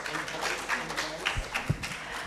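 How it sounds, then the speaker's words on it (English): Audience at a workshop session in a conference hall applauding, a dense, continuous wash of clapping throughout with a few louder thumps, and voices faintly beneath it. "Clap your hands."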